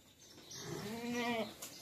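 A goat on a buffalo farm gives one drawn-out, wavering bleat, close and fairly clear over quiet barn background.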